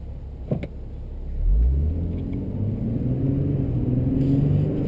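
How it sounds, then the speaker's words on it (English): A 2010 Nissan 370Z sports car engine rumbles low and deep through its exhaust, rising briefly as it revs, then settling into a steady throaty drone. "throaty exhaust to this vehicle."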